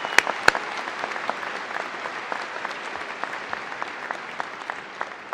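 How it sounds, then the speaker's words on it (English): A large audience claps at a university commencement ceremony, a sustained even wash of applause with a few sharper, closer claps standing out. "I think everyone in here should just give everyone in here a big round of applause for today's accomplishment"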